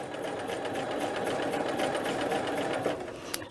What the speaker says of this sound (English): I'm gonna just keep basting to hold this all together